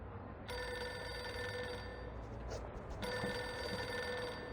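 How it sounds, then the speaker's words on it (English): A telephone bell in the video game Reverse: 1999 rings in steady, continuous bursts over a faint background hum, with a brief break partway through and no voices. "Pick up the phone already."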